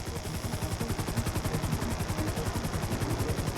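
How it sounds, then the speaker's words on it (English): A helicopter hovers in the video game Grand Theft Auto V. Its rotor beats in a fast, even thumping pulse over a broad engine roar, loud and close and heard alone. "Just hold the chopper here."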